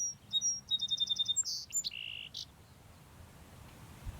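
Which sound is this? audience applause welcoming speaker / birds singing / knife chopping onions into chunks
birds singing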